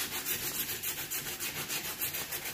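A sanding pad scuffs the rounded side of an epoxy resin bar stool by hand, giving a steady, rhythmic rubbing and scratching at close range, fairly quiet, with short back-and-forth strokes.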